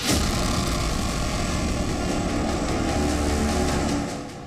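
Military aircraft roar overhead during an exercise, a Sukhoi fighter jet along with Chinook and Apache helicopters, a dense loud continuous rumble that fades slightly at the end.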